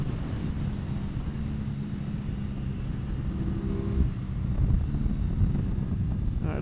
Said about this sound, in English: Get the little Aprilia singing up Hailwood Heights